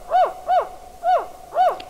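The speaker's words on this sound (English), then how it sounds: "California spotted owls" California spotted owl hooting in a blue oak woodland, four clear, evenly spaced hoots close by against a quiet background.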